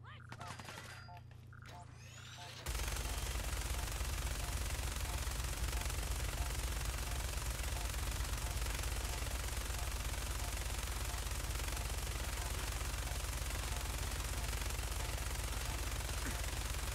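Sustained automatic gunfire in the video game Fallout 4 erupts after a brief quieter moment and continues as a dense, unbroken loud barrage for the rest of the stretch.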